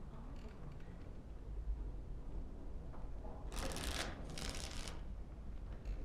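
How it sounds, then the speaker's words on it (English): Cards are shuffled for a round of Wicked Grace in the video game Dragon Age: Origins. Two quick riffling bursts stand out clearly over a low room hum, with a brief pause between them. "Before we start, the cards must be shuffled."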